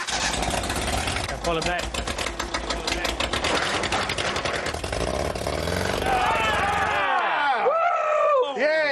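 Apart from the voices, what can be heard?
engine running in scrapheap-built vehicle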